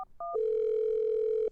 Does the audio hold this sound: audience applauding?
no